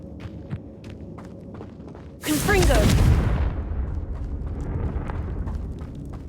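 A Confringo spell blast in Hogwarts Legacy, a sudden loud booming burst with a crackling, whooshing tail that rolls off into a lingering rumble, heard over ambient game noise.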